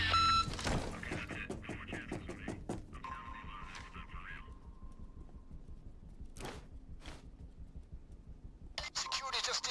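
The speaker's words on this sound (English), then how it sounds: "Please leave a message after the beep," In the video game Payday 2, after some rapid clanking and clicks, an answering machine gives a single long electronic beep that sounds steadily for a few seconds, followed by near-quiet with a few dull thuds.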